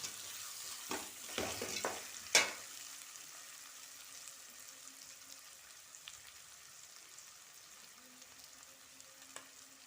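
Green chilies and onions fry in a pan for prawn biryani, with a faint, steady sizzle and a few scraping stirs near the start.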